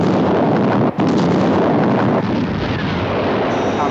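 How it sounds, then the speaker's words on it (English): Missile explosion in a 1980 UFO science-fiction TV series: a loud, sustained broadband roar with a brief dropout near the start, then a rumbling blast that continues to the end, with no talk. "Our visual contact with explosion. Detonation positive."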